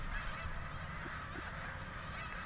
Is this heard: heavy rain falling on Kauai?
no